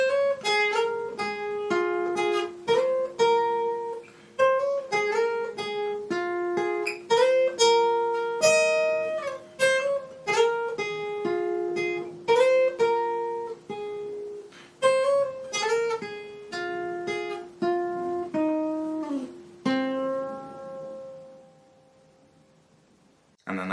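Fast lead guitar riff from a song, played at full speed: a rapid run of bright picked notes with steady rhythm for about twenty seconds, ending in a sustained ringing note, with no talking.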